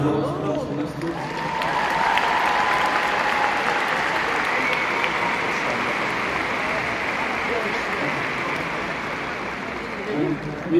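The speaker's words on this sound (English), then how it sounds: "Give yourselves a round of applause for us for next week" Concert crowd applauding, a sustained dense roar of clapping and cheering that holds steady for about ten seconds, with a voice over amplified sound briefly at the start.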